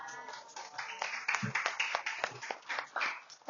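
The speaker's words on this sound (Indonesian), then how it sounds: "Tepuk tangan untuk semuanya." A small group in a classroom-style lesson clapping for everyone, a loose patter of close hand claps running steadily for a few seconds with light voices underneath.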